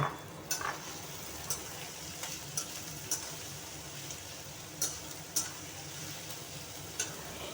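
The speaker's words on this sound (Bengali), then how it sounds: "পেঁয়াজটা হালকা নাড়াচাড়া করে দিয়ে দেব" Chopped onions frying in a pan while being stirred, a soft steady sizzle with occasional sharp ticks of a spatula against the metal, close and without talk.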